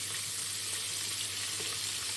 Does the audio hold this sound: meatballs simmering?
yes